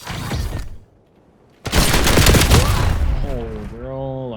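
Shotgun fire in Call of Duty Black Ops 7 during a Search and Destroy round: a loud burst of blasts, a pause of near silence, then a longer roaring volley that fades as a player starts talking.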